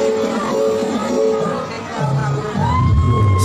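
Audience shouting and cheering at a dance performance at an Islamic boarding school event, a continuous crowd roar with rising whoops and calls, loud and sustained throughout.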